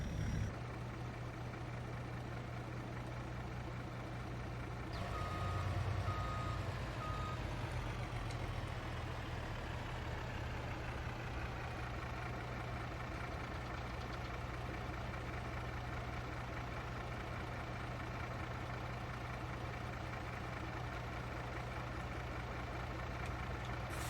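Trucks idle and reverse in Farming Simulator 22 while a gravel driveway is resurfaced, giving a steady, close, heavy engine drone for the whole stretch, with a slight swell near the start and no talk.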